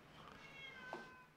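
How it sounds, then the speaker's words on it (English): A male house cat gives one short, fairly faint meow partway through, with only a quiet indoor room hum around it. "And I hear the cat."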